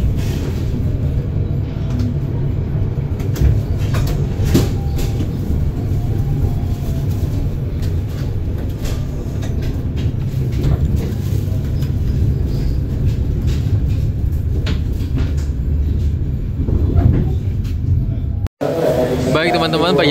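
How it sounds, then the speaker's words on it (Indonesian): A low, continuous rumble from the Pandalungan passenger train running between Cepu and Semarang, Indonesia, steady throughout, with people talking over it; a brief cut near the end. "perjalanan kita bersama dengan kereta api Pandalungan dari stasiun Cepu menuju ke stasiun Semarang Tawang"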